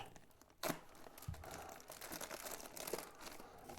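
A quiet, close crinkle and rip of a plastic packet being torn open, with a sharp burst of tearing followed by softer rustling.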